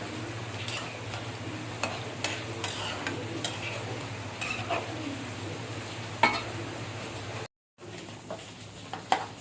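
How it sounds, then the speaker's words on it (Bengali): Red amaranth greens with chopped green chilli and onion fry in a pan with a steady, quiet sizzle. Several light scrapes and taps of stirring mark the sizzle, and a brief gap of silence falls near the end. "লাল শাক ভাজিটা বসিয়ে দিলাম।"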